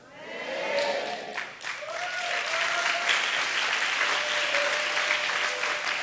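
An audience at a church camp session applauds: dense, steady clapping swells quickly and holds throughout, with a faint voice briefly audible over it.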